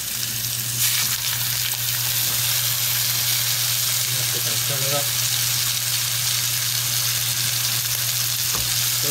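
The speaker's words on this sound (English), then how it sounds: "I know they'll sizzle as soon as I put them on." A wagyu steak sears in a pan of smoking-hot oil, giving a strong, even, close-up sizzle that runs unbroken throughout, with a couple of faint clinks.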